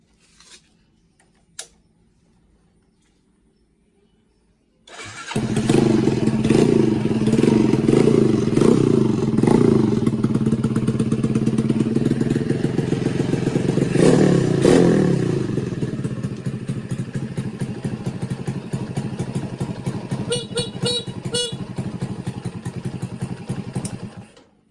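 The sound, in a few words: motorcycle electric starter and horn tested with battery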